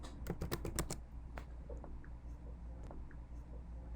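Fingers typing a title into a web page on a computer keyboard, a quick cluster of close, crisp key clicks followed by a few sparser taps, with no talk.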